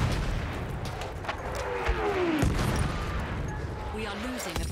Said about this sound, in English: What is with all the mortars?